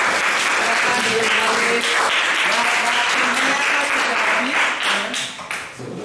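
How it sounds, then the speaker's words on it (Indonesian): Applause from a class of students in a school lesson, a steady dense wash of many hands clapping throughout, with some voices mixed in, tapering slightly near the end. "Terima kasih sekali lagi tepuk tangan."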